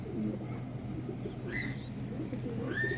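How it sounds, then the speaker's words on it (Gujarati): A flock of pigeons gathered at a bathing spot coos softly amid a steady murmur of background noise, with a few brief higher calls breaking through near the end. "જો ભાઈ આ કબૂતર જોઈ લ્યો, બધા આવી ગયા."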